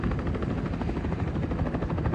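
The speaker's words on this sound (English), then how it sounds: "Seeing some crazy helicopter movements here, Pier 6, Lower Manhattan." A helicopter flies near Pier 6 in Lower Manhattan, its steady rotor chop and engine roar loud and continuous throughout, with no voices.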